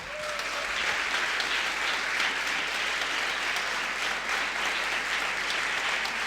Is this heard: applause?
yes